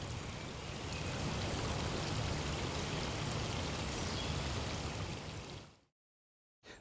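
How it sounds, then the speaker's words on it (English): Small trickle of water flowing out from under a tree in the woods, a steady close babbling wash for about six seconds before cutting to silence, with a brief return at the very end. "there's still a little trickle flowing out from under that tree"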